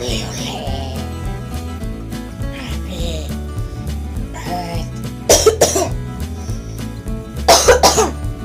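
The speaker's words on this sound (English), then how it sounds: "Sorry, I cough." Two loud bursts of harsh coughing stand out, the first near the middle and the second near the end, over quieter background music.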